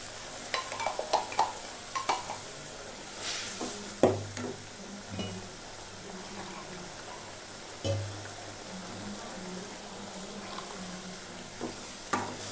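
Bitter gourd curry with masala cooking in a pot on the stove, a soft continuous bubbling sizzle broken by scattered stirring clinks and a few louder utensil knocks against the pan, with no voices.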